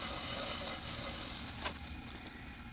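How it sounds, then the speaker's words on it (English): Slider buns toasting in a pan with leftover butter from cooking onions, giving a steady, close sizzle and frying crackle throughout, with a brief clatter midway. "So I'm going to go ahead and toast the buns."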